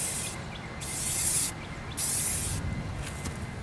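A spray can paints a go-kart frame up close, giving three hissing bursts with short pauses between them and nothing else heard.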